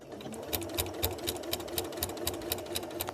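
An Elna Excellence 680+ sewing machine stitches at a quick, even pace, its needle producing a regular rapid clatter close by and alone.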